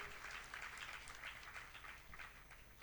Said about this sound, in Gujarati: સ્વામીને તાળીઓથી આપણે વધાવીશું.